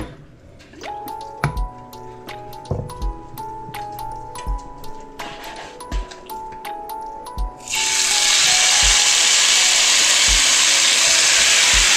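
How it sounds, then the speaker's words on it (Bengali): Several light clinks and taps of a utensil come first. Then a loud, steady sizzle of food frying in a pan with a little oil begins and fills the rest of the clip. "অল্প তেলে আস্তে আস্তে ফ্রাই হবে"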